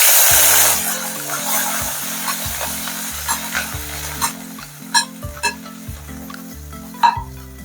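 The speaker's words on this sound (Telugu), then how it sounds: "దీంట్లోకి కట్ చేసి పెట్టుకున్న బెండకాయలు వేసుకుందాము" Chopped okra fries in a little oil, making a continuous close sizzle. A repeated low tonal pattern and sharp clinks from stirring sit over it.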